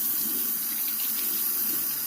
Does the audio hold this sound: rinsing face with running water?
yes